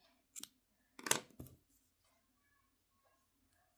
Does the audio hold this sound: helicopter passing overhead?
no